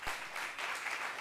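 Audience at a slam poetry festival applauding, a brief burst of dense clapping heard from within the crowd.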